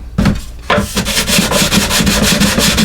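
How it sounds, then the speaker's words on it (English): Sanding blocks rub back and forth across the wooden top of a cigar box guitar, giving close, loud, rhythmic scratchy strokes after a couple of short starts. "come in with your sanding blocks and work that out"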